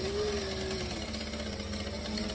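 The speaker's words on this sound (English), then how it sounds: "Now I can stitch the sides together." A sewing machine runs steadily, stitching together the layered sides of a welt pocket on a garment, producing a continuous, even mechanical hum and whir with no talking.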